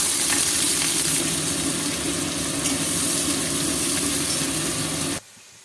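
Onion, garlic and green chili frying in hot mustard oil in a wok, a steady close dense sizzle that runs unbroken for about five seconds and then cuts off abruptly.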